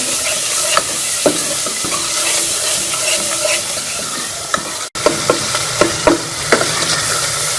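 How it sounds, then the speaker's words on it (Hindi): Yogurt frying and being stirred into a spice masala for an aloo matar curry, a steady loud sizzle broken by repeated scraping stirs of the spoon against the pan, with no talk. "दही शामिल करके हम इसको भी मसाले के साथ अच्छी तरह से भून लेंगे दही को"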